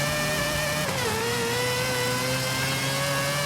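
A rotary-engined car in Forza Horizon 5 revs hard, its high buzzing engine note holding steady, dipping briefly as it shifts, then climbing again, loud and continuous with no talk.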